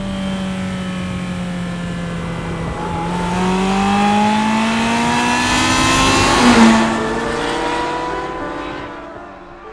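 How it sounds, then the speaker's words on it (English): A Ferrari F355 sports car engine revs hard and loud nearby, its pitch rising smoothly through a long climb to a peak and then dropping away, heard alone without talk. "And that is the Ferrari F355."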